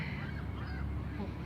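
Swans calling outdoors in spring, a few honking, goose-like calls rising over steady background noise, fairly close and clear.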